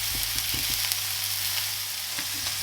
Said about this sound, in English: Make sure my bacon's not burning.